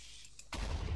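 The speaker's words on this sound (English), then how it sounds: "He's probably died from the creeper explosion." A creeper explosion in the video game Minecraft: a single sudden loud boom at mid-clip that leaves a rumbling, noisy tail, heard alone without talk.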